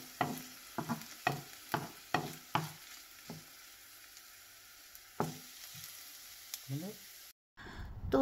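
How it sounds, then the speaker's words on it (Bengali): Coconut frying in a little oil in a wok, with a spatula stirring it in a series of sharp scrapes and clinks over a quiet, steady sizzle that pauses briefly near the end. "এখন কড়াইয়ের মধ্যে অল্প তেল দিয়ে নারকেলগুলো ভেজে নিচ্ছি।"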